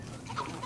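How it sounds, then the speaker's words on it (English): Chicken clucking in the Fortnite video game, a short soft burst of game-sound clucks heard alone without talk. "Wait, come here, chicken."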